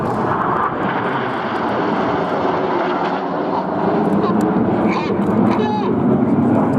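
RAF Red Arrows jets roar through a flying display at an air show, a loud continuous engine rush with shifting pitch, while a commentator talks over it.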